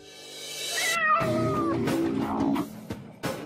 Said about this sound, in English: the household cat